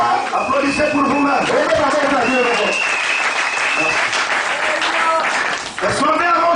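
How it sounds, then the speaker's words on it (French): A church congregation bursts into clapping and cheering, loud and close, while a preacher's voice and music carry over and around the applause. "Applaudissez pour vous-même."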